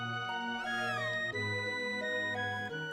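In the Chrono Trigger video game, a synthesized cat meow sounds over steady, loud chiptune-style music, the cry bending in pitch briefly before the tune continues alone.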